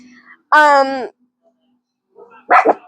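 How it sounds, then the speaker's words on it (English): Pet dogs barking indoors, reacting to another dog outside, with a long harmonic bark-whine followed by a shorter second bark after a pause, close and loud in a quiet room. "They hear a dog outside, so they're barking and they're being noisy and annoying."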